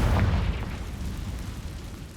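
A Confringo blasting spell explodes in Hogwarts Legacy as a loud, deep boom at the start, followed by a long rumbling decay.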